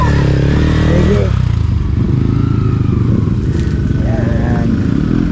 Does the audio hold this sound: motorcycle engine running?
yes